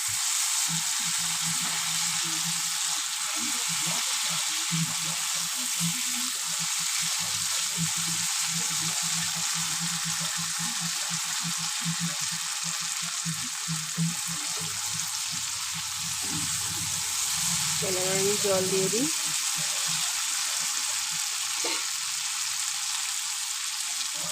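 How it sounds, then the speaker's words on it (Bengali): Fish curry masala for a silver carp jhol sautéing in a pan, with a steady close hiss of frying oil and soft intermittent stirring scrapes throughout. "দেখো বন্ধুরা আমার প্রায় কষানো হয়ে এসছে আর একটু কষা হবে"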